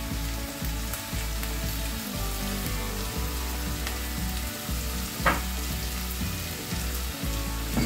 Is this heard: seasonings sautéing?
yes